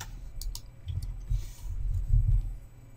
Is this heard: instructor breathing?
no